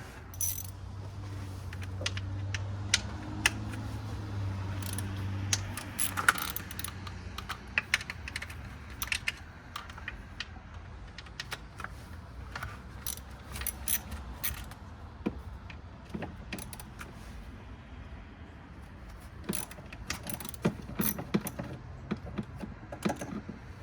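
A socket wrench works a bolt loose from a BMW 3 Series starter, giving faint scattered metallic clicks, ratcheting ticks and small clinks of tools spread irregularly over about twenty-four seconds, close but quiet, with no talking.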